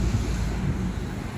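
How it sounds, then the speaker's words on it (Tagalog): Steady, rumbling wind noise buffets the microphone near PITX station, a constant low roar with no voices. "Pero buti dito mahangin naman konti."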